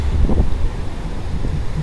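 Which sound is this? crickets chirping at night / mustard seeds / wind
wind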